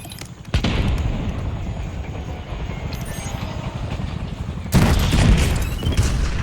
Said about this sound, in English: Breaking out rocket launcher.